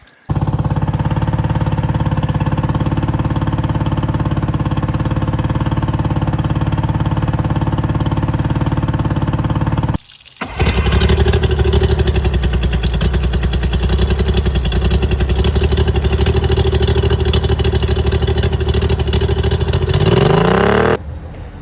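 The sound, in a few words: outboard boat engine running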